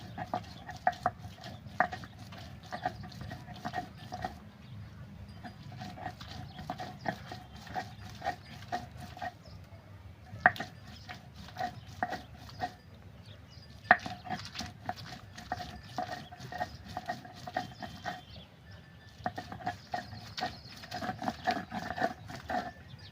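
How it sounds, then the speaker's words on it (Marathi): Spinach being ground on a stone grinding slab for palak paneer: a steady run of rough scraping and grinding strokes, close and fairly quiet, repeating with short pauses for over twenty seconds. "हे पालक आपण वाट्यावर चांगले पाट्यावर वाटून घ्यायचे आहे आपल्याला"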